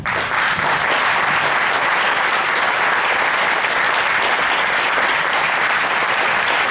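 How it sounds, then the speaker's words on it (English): A seated audience at a Jain talk session claps together in a thick, continuous round of applause, loud and even from start to finish, with no one speaking over it. "If I'm making sense, you can clap and let me know"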